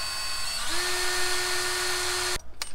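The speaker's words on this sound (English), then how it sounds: "We're gonna drill holes in the mounting bracket so I can install it in the cab" A power drill bores holes in a metal mounting bracket meant for a tractor cab, its whine steady and high-pitched for nearly two seconds before stopping abruptly, close and loud with no talking.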